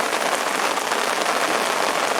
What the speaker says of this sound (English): It's absolutely lashing it down.